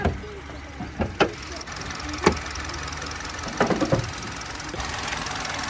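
A Hyundai i20 engine with an IVT gearbox idles under an open bonnet with a low, steady hum, broken by a few sharp clicks and knocks, recorded close up.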